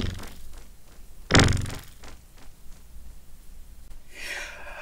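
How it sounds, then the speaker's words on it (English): A GS Music e7 synthesizer patch sounds over a dense, noisy backdrop, with one loud thudding percussion hit and a few softer, sparser knocks. "And then you heard this kind of like percussion hitting occasionally in the background."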